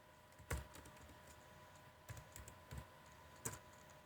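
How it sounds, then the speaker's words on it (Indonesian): Keystrokes on a computer keyboard while entering a Python command in a terminal, a few sparse, faint clicks in small irregular clusters over a quiet room hum. "Kita ketikkan filenya."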